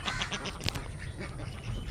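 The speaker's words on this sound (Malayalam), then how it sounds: "ഞാൻ താറാവിനെ കാണിച്ചു തരാം" Domestic ducks raised at a home in Thrissur, Kerala quack faintly in a few short, scattered calls, with no talk over them.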